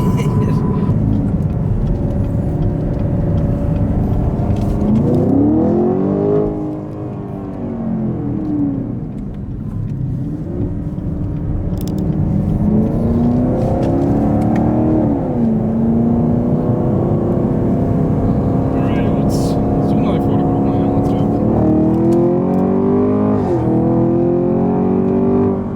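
A car accelerates hard through a test-drive pull, its engine note rising in sweeping gear-by-gear climbs, dipping briefly mid-run before pulling again, loud and close inside the cabin with voices talking over it.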